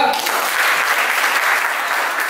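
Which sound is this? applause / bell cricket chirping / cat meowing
applause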